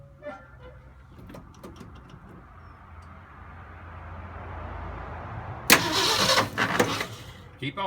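A Ford F250 with a newly fitted Pertronix Flame Thrower II distributor cranks with a low, labored churn that builds for several seconds, then catches and starts with a sudden louder burst of engine noise.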